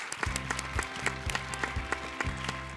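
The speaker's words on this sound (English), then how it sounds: "Just want to give them a round of applause." A panel audience in Chicago applauds, a continuous clatter of many hands clapping at moderate distance, steady and sustained throughout with no talk over it.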